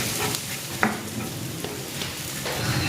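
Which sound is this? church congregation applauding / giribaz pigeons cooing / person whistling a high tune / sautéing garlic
sautéing garlic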